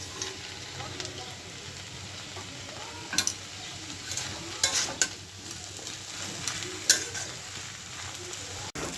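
Fried puti fish with ground cumin and coriander stirred into a sizzling pan of vegetable-stalk chorchori; a steady oily sizzle runs throughout, broken by sharp scraping clinks of a spatula against the pan at irregular moments.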